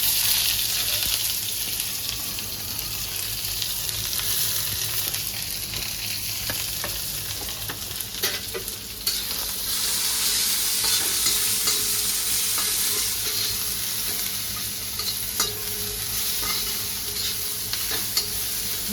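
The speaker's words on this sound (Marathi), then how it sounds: "आता कांदा पण असा थोडासा भाजून घ्यायचा आहे" Onion frying in a pan alongside Khandeshi-style mutton, a loud continuous sizzle with stirring scrapes and a faint watery hiss, close and steady with no voices.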